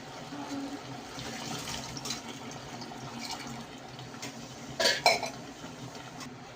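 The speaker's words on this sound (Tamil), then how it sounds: "தண்ணி ஊற்றிக்கலாம்." Water poured into a cooking pot for veg biryani, a steady trickling stream at moderate distance with a couple of sharper clinks of metal near the end.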